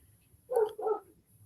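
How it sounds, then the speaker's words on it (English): A dog barks twice in quick succession at a distance, short muffled woofs with quiet room tone around them and no talk over them. "I can hear the dog."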